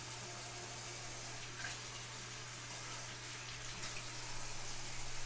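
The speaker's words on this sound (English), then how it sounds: "I'm gonna dump out the salt fixer." Coffee-stained salt fixer poured out into a sink, a steady soft rush of running liquid under a low constant hum, continuous and fairly faint throughout.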